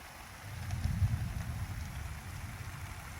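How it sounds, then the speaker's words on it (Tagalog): Rain falling outside a house in Korea with thunder around, heard as a steady low rumbling wash of drops and wind-like noise, continuous and moderate for the whole stretch. "Umuulan na guys."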